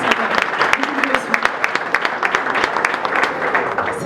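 A crowd at the Congo Na Paris business fair applauds warmly, a brisk, steady patter of many hands close by, with a voice faintly underneath throughout.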